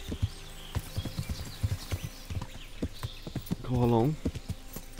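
Horse hooves clip-clopping in a steady walking rhythm in the video game Kingdom Come Deliverance, under intermittent talk, with a short whinny near the end.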